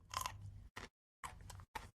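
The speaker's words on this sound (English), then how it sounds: "Gonna nobble on a carrot here." A raw carrot being chewed close to a microphone, four crisp crunching bursts separated by short silences, loud and near with no talk.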